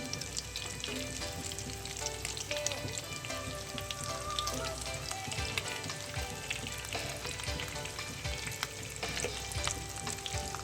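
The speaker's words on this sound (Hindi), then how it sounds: "दूसरे साइड से भी हम इसी तरीके से फ्राई करेंगे" White chana kebabs fry in hot oil with a steady, dense sizzle and crackle that runs unbroken throughout, with occasional sharper pops and no one speaking.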